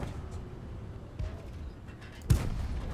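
A tank cannon firing in World of Tanks: a single sharp, loud boom near the end, preceded by a fainter thud, over low rumbling engine noise.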